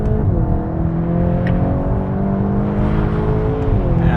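A VW Golf R or GTI Clubsport Mk 8.5 driven hard, its engine holding a steady loud drone with rising and falling pitch as revs shift, heard close and continuous with no voices.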